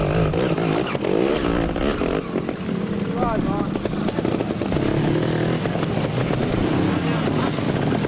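A trials motorcycle works through a wet turn at a 1995 NATC national moto-trials round in Rhode Island, its engine note rising and falling steadily throughout, with a commentator talking over it.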